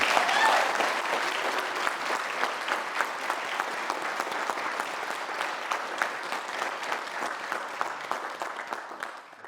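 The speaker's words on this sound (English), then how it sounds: "And I think their parents deserve a round of applause for the great job that they've done." Wedding guests at a ceremony at Stonefields Estate in Carleton Place applaud with a sustained round of clapping, dense at first and thinning into fewer, distinct claps as it fades.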